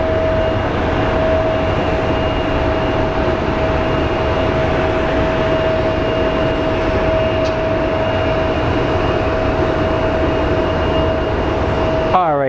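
A Boeing 777 taxis toward the end of runway 8 at Phoenix Sky Harbor airport, a steady, loud engine hum with a sustained whine held evenly throughout, no talk over it.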